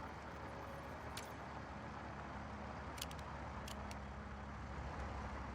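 A low, steady motor rumble of a fluid truck in the video game Satisfactory drones throughout, with a few brief high hissing clicks over the noise.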